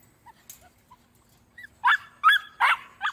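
Dogs whimpering softly with small whines at first, then several sharp close barks and yips in quick succession.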